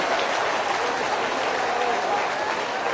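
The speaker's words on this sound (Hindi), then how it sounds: "चाबी खोलनी है दिल की, तो तालियों की गड़गड़ाहट से खोलो।" A crowd at a BJP political rally in Madhya Pradesh breaks into sustained applause, a dense, continuous roar of clapping with crowd voices mixed in beneath.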